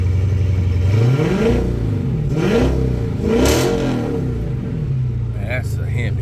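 Gen 3 HEMI V8 fired up after a spark plug change, its engine revving in a few rising and falling swells over a steady idle, loud and close, with a voice talking over it.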